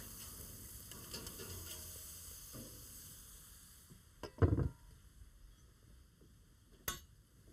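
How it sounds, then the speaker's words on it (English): Swordfish grilling alongside shrimp, a steady low sizzle under a faint hum, broken by a couple of brief clattering knocks as the fish is moved. "Let's take a look at our fish that's grilling."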